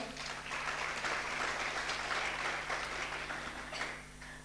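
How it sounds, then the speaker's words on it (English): Audience at a summit panel applauding steadily, a dense wash of clapping that swells and then fades toward the end, heard from within the room. "Let's do an applause for Vahe."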